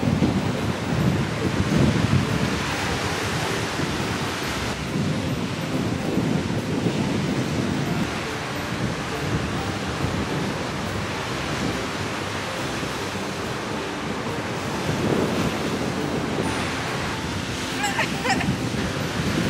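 Ocean waves at a beach in Hana, Hawaii roll in as a broad wash of surf mixed with wind noise on the microphone, swelling and fading at moderate loudness, with no talk.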